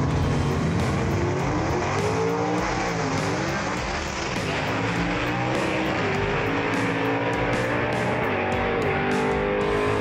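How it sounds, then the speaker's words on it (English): A 1949 Studebaker truck roars around a dirt oval in an outlaw race, its engine loud and steady with other cars' engines layered over it, some rising and falling in pitch as they pass throughout. "Billy Wilson riding a bucket Bronco down that racetrack, but gathers it in and drives by Purdue"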